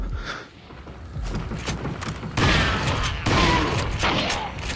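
A shotgun in the Resident Evil 4 VR game fires in a series of heavy blasts mixed with thuds and impacts, loud and close, the bursts clustering in the second half.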